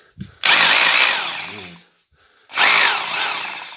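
A Bosch GBH 2-24 D rotary hammer in drilling mode runs in two loud, close bursts of steady whining motor and bit grind, about 1.5 seconds each, separated by a short pause; one brief spoken word comes just before.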